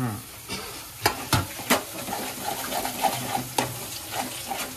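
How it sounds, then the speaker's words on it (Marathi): Tomatoes and chicken liver stir-fried in oil for a spicy Malvani-style kaleji fry, with a steady sizzle and several sharp scraping and clanking strokes of the spoon against the pan, close and moderately loud. "टोमॅटोला पण परतून घ्यायचं"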